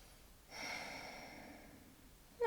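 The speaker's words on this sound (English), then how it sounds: "Taking a few more breaths in here." A long, steady breath during a post-run yoga stretch, starting at half a second and drawn out for about two seconds as a soft, close airy hiss, followed by a brief sharper sound at the end.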